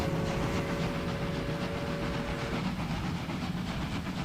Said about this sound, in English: The first train on the line.